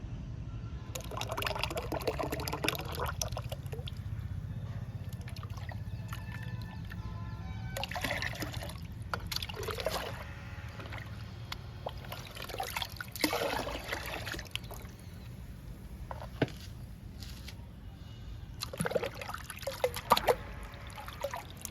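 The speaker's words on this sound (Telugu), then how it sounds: "ఈ వాటర్లో కీర దోసకాయ పేస్ట్ని డైల్యూట్ చేసుకుందాము" Cucumber paste diluted in about nine litres of water in a ten-litre bucket, making a liquid plant feed: soft trickling, sloshing and splashing as the mixture is poured and stirred, close and fairly quiet, with no speech.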